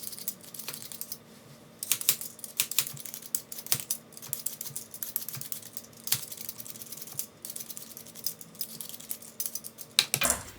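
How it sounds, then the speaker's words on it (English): Potatoes are peeled by hand, giving a run of quick scraping strokes and light clicks in an irregular rhythm, close up and fairly quiet, with occasional utensil taps. "I'm going to peel them for you right now"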